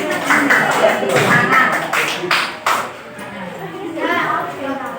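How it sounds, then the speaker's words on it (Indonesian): Children in a classroom clap in scattered, uneven bursts, a few sharp claps standing out, while young voices chatter throughout and the clapping tapers off midway. "Tepuk tangan untuk kelompok 1 ya."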